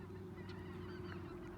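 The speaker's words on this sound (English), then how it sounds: "geese right now that are migrating out of our area as they do every fall" Geese honk repeatedly during their fall migration, steady calls sounding over a constant low rumble of background noise with no talking.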